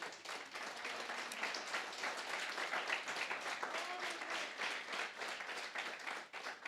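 A church congregation applauds steadily, with dense clapping that holds at an even level throughout.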